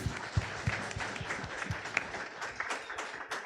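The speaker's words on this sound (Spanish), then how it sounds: "Un aplauso para mis hermanos" A church congregation applauds during a Spanish-language worship service, a steady mass of claps at moderate distance, with a low murmur of voices under it.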